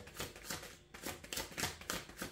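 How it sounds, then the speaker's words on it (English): Oracle cards being shuffled during a tarot-style reading, a quick run of soft riffling flutters and taps in an uneven rhythm, close and fairly quiet, with nobody speaking. "One last shuffle."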